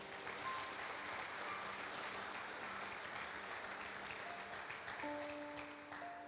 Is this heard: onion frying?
no